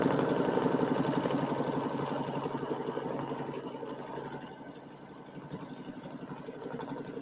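Sewing machine stitching in matching thread to tack down lattice strips on a quilted pillow, a rapid steady mechanical chatter that eases slightly then resumes, close and alone without talk.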